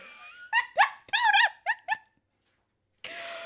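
A dog gives a quick series of high whimpering barks and yips up close, then goes quiet before a burst of broadband noise returns.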